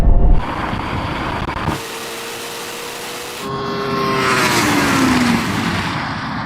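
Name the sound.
Porsche Taycan Turbo GT accelerating in drag race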